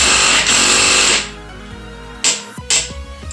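Close up, a 12 mm socket wrench loosens an alternator bolt on a Subaru EJ25 2.5L engine. A loud, harsh burst of mechanical noise is followed by a quieter pause and then a few sharp metallic clicks, with no speech.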